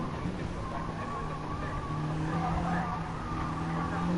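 Honda NSX race cars lapping Spa in a racing video game, a dense pack of engines droning steadily with faint tyre scrubbing, heard alone without talk.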